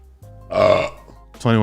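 A loud close burp from a podcast host, one drawn-out belch in the middle, with a voice heard briefly around it.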